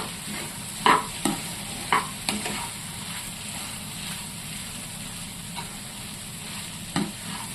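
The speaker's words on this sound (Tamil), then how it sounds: "பரோட்டா சேர்த்து முட்டை கூட நல்லா மிக்ஸ் பண்ணி விட்டுருவோம்." Torn pieces of parotta tossed with egg in a hot pan for street-style egg parotta, giving a steady low sizzle broken by several sharp scraping clinks of the spatula, close and alone.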